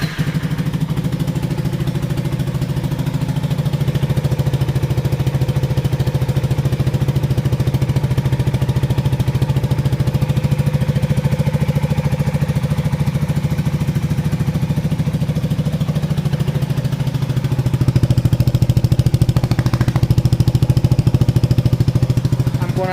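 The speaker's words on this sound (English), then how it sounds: "let's make the first sound check. It's a cold start, guys." CF Moto 300NK motorcycle fitted with a racing exhaust, starting cold and settling into a steady, loud low idle throughout, with a slight change in tone and a small rise in level near the end.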